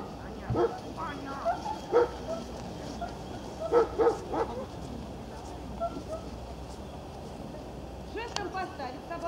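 A dog gives a few short barks and yips during an outdoor obedience training session in Oryol. The barks are spaced out over a low steady background, and people can be heard talking.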